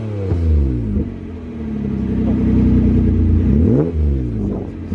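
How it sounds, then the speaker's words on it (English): Jaguar-sourced 3-litre V6, Ford Duratec-derived, fitted in a Mazda MX-5, revving hard with rising and falling pitch sweeps, a loud close rumble that climbs, dips briefly and climbs again. "this is not the typical Mazda engine, this is a V6"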